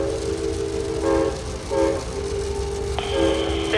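A SunRail commuter train on the CFRC corridor rolls into Orlando station under a low rumble, with tonal horn-like blasts sounding in short bursts and a higher sustained tone joining near the end.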